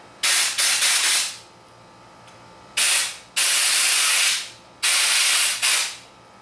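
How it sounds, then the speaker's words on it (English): Loud compressed-air bursts from an air compressor nozzle blow dust out of a Napoleon gas grill burner, coming in three long hissing blasts, each ending in a short tail, with quiet gaps between them. "So we'll just take the air compressor and just blow some air into here, blow any of the dust out of it."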